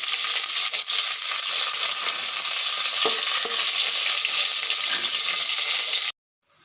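Mustard seeds and curry leaves crackle and sizzle in hot oil, a loud, continuous frying hiss with a few sharper pops, close to the pan and free of talk before cutting off abruptly.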